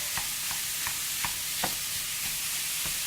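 Ground hamburger browning in a hot ceramic pan, with a steady background sizzle and a regular series of soft scraping stir strokes about every half second, close and fairly quiet.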